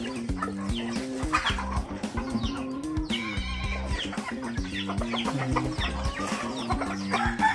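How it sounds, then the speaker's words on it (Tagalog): Gamefowl chickens cluck and squawk continuously in Lian, Batangas, over a busy, layered backdrop of music-like tones, loud and close with no pauses. "Manok na alaga ng aking tatay"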